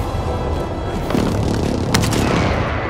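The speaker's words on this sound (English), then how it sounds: "Bringing down an airstrike" Airstrike explosion in Call of Duty Warzone on Verdansk: a continuous loud rumbling blast with heavy low boom and a sharp crack near the end, dense and close with no pauses.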